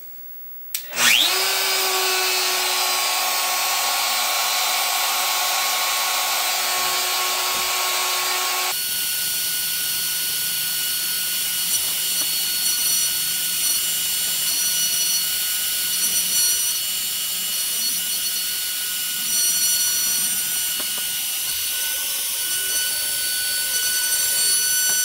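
A Lowrider2 MPCNC router carves a narrow groove into wood with a ball nose bit, giving a loud, steady high-pitched spindle whine that drops to a lower, rougher cutting drone midway and holds without talk.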